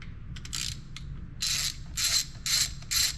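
A ratchet wrench loosening valve cover bolts on a Mazda Protege: several close, crisp clicking bursts in short back-and-forth strokes, separated by brief pauses, with no talking.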